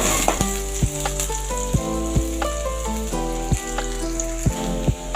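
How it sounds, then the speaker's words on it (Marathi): Chopped onion frying in hot oil for a prawn curry, heard as a steady close sizzle with a low background hum and periodic soft stirring taps. "तेल तापल्यानंतर चिरलेला कांदा घालायचा. तो परतवून घ्यायचा."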